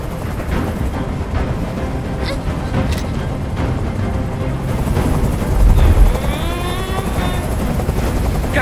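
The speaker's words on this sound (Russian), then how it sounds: "Прикажи им, чтобы вертолет убрался!" A police helicopter hovers during a hostage standoff in the Detroit: Become Human video game, its steady rotor thrum filling the background continuously as a rising electronic whine briefly sweeps over it midway.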